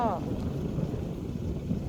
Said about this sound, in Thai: ลมพัดแรงมากเลยตอนนี้